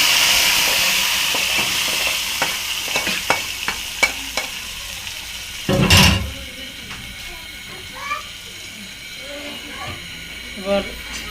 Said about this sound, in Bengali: যে পেঁয়াজটা ভাজা হয়ে গেছে, রসুন কুচি দিয়ে দিচ্ছে বাগার।